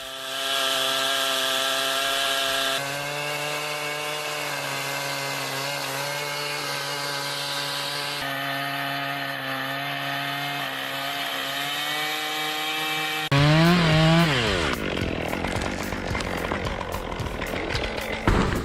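A chainsaw cuts through heavy timber during logging work, a loud continuous snarl that holds steady and then shifts pitch and roughens as the load changes, with no voices.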